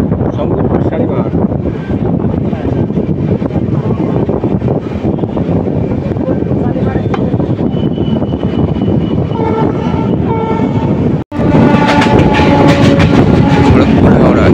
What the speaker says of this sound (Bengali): Secunderabad Shalimar superfast express.